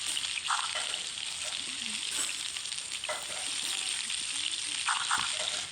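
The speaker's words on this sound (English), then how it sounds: "So now we'll take this and we'll fry it all up." Food frying in a cooking video game, a steady bright sizzle close by with a few clinks and small knocks of stirring mixed in.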